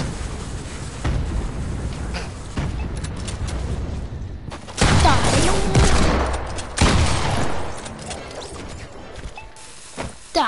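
Dynamite explodes in a video game as a dense burst of crackling, rumbling blasts and crashing debris, loud and close, surging in two big waves before thinning out.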